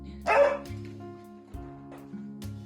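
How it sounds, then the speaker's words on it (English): A dog gives a single close bark followed by soft whimpering yips over a steady low hum. "Well, don't bark at Archie"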